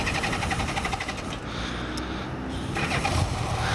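A 1984 Honda GL1200 Goldwing motorcycle engine cranks from cold and catches, sputtering unevenly before settling into a rough, rapid idle close by.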